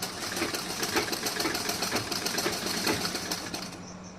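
A sewing machine runs steadily while stitching gathered pleats on a blouse, its needle clattering in a fast, even mechanical rhythm up close for a few seconds.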